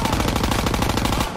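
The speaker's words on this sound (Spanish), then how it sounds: "¡Disparo al enemigo!" Rapid automatic gunfire in the Call of Duty: World War II game, a dense, loud, continuous burst of close shots with no pause.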